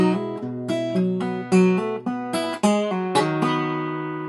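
Acoustic guitar plays measures 57 and 58 of a song, a close, clear run of plucked notes and chords ringing one after another without voices.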